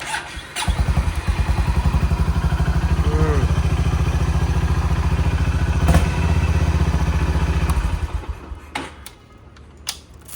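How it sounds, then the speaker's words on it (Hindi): A damaged motorcycle fires up and idles with a loud, rapid, even engine chatter that runs steadily for several seconds before dropping off near the end. "स्टार्ट तो हो रही है बाइक, कोई दिक्कत नहीं है"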